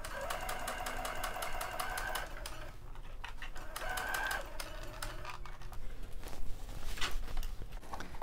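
A sewing machine stitching a long sleeve runs in steady rapid bursts of needle clatter, pausing briefly and restarting, close and moderately loud over a low background hum.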